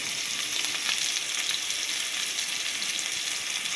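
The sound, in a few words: green chillies and curry leaves frying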